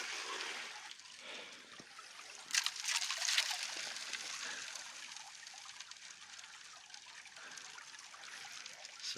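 Water trickling and sloshing through a gold sluice box in a creek running high after a wet winter, a steady, fairly faint flowing wash with a brief louder splashy surge in the middle.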